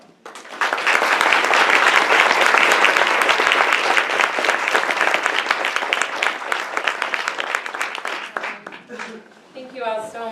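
An audience at a lecture in Ann Arbor breaks into loud sustained applause for a speaker, swelling quickly and holding steady before tapering off as a voice begins talking at the end.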